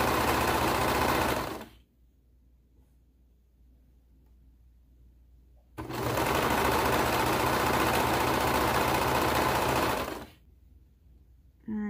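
A sewing machine stitches cardigan fabric pieces in two loud, close bursts of rapid, steady whirring, separated by a few seconds of near silence.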